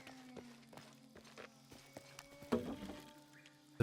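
A small llama walks in the Shadow of the Tomb Raider video game, its hooves making light, irregular clip-clop taps over a quiet humming background, with a louder burst of movement toward the end.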